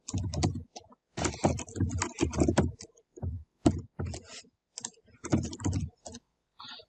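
Keys tapped on a computer keyboard in quick bursts of clicks separated by short pauses, close and fairly loud, with no voices.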